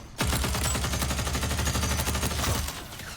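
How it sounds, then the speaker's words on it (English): Rapid burst of automatic gunfire from a weapon in the shooter game Hyenas, a dense stream of sharp shots lasting a couple of seconds, loud and close, then stopping abruptly, no talk. "I kind of have to like burst fire this thing"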